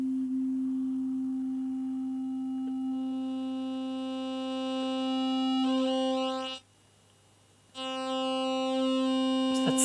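A Modal Electronics Cobalt8 synthesizer sustains a bright, buzzy square-wave tone with rich harmonics, holding steadily, cutting out briefly to silence, then returning at the same level.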